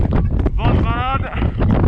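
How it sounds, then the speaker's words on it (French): Strong mountain wind buffets the microphone in a loud, rough roar that never lets up, with a short voice heard partway through. "Vent de malade."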